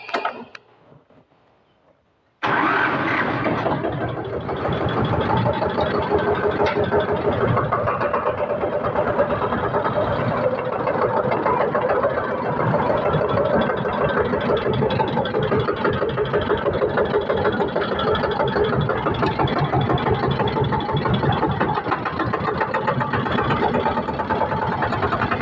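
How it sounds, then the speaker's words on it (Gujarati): A farm tractor engine starts up after a short quiet moment, then runs at a steady, loud idle-like drone with an even mechanical rumble for the rest of the stretch, as it sets off to grind maize. "હવે કરી ટ્રેક્ટર ચાલો."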